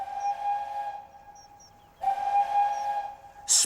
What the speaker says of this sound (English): Spencer whistled long and hard.